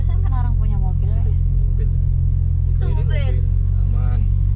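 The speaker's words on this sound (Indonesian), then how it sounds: "Itu mobil masih jalan." A car on a steep road near Jogja gives off a low, constant engine rumble close by, holding steady while people talk over it.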